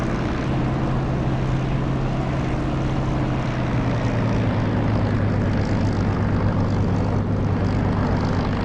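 Aircraft engine in the DCS flight simulator game, using a custom engine sound mod: a loud, steady propeller drone with a low hum that drifts slightly downward in pitch, constant and without talk.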